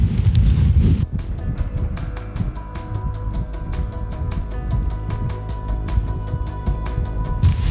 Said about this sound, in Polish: jest bardzo zimno i bardzo mocno wieje